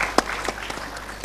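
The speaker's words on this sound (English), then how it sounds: "Can I have a round of applause for him before we begin our panel?" An audience at a panel discussion gives a short round of applause for a panelist, with a few distinct claps over a hum of room noise.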